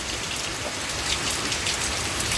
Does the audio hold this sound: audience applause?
no